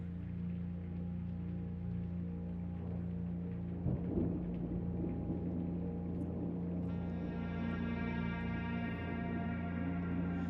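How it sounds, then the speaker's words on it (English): Rain and rumbling thunder in the video game Blue Prince, a steady wash of falling rain with a low roll of thunder partway through, joined later by a sustained musical tone layered over the storm. "Ooh, it's raining."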